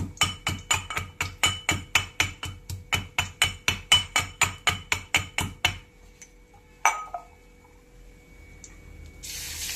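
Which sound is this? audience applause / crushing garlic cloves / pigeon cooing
crushing garlic cloves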